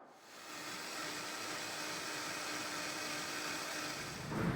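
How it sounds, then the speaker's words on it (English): A steady, loud motorized whirring of a blender pureeing roasted tomato soup, running continuously, dense broadband noise with a slight surge near the end. "All that's left to do is get it blended in my blender."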